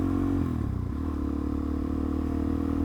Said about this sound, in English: pull the clutch in, click up a gear, and then let the clutch out, put the throttle back on at the same time